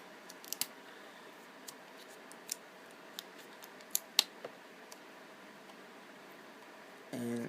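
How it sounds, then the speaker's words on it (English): Black electrical tape is pulled and snipped while a dead-battery Xbox 360 controller is repaired: faint, scattered little ticks and cuts over quiet room hiss, ending in a short rougher burst. "And then you take some tape"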